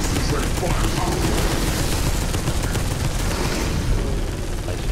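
Heavy gunfire in Space Hulk: Deathwing, a dense, continuous roar of rapid shots that stays loud and steady throughout with no pauses.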